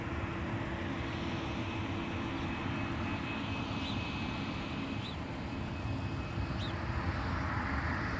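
Jet airliner at MSP airport, a loud, steady broadband engine roar that holds throughout with a faint tonal whine above it, no voices.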